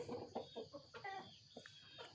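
Rooster clucking in short, irregular bursts, fairly close but quiet, with small pauses between the calls.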